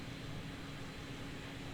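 A JetBlue airliner comes in within a flight simulator game, heard as a faint, steady, broadband engine drone with no talking.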